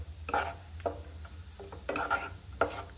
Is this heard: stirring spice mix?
yes